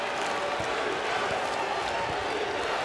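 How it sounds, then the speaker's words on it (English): Basketball arena crowd at a Duke vs NC State ACC Tournament game roaring continuously in the final minute, a dense wall of cheering with faint ball bounces and a commentator talking over it. "this crowd is alive and comes to its feet for the final minute of play"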